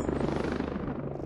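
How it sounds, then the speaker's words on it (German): A helicopter approaches in the video game Ghost Recon Breakpoint with a steady, throbbing rotor chop and low engine drone at moderate volume, heard alone. "Oh Gott, natürlich kommt jetzt ein Heli."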